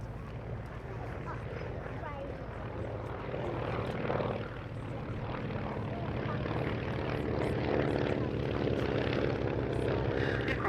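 A Beech Staggerwing biplane flies at the Duxford Summer Airshow 2023, its propeller engine a steady droning roar that swells and stays loud throughout, with a voice speaking over it.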